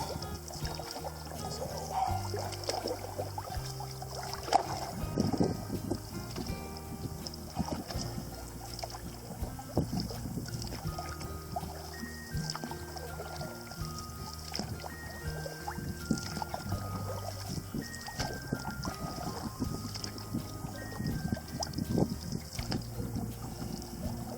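A canoe is paddled hard across a Boundary Waters lake in fall, with repeated paddle strokes, splashes and water trickling off the blade over steady background noise and no talk.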